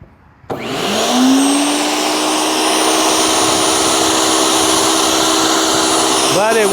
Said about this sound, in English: Now it eats these branches, and these are not dry.